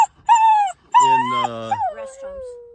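Dogs in Chester, California, near Lake Almanor, whimper and whine in a few drawn-out, wavering cries just before a rescue flight, close and fairly loud with brief pauses between.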